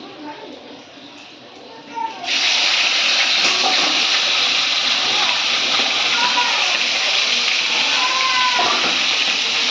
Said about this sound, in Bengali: মাংসটা একটু ভেজে নিই, তারপরে পেঁয়াজ রসুন আদা সব দিয়ে দেবো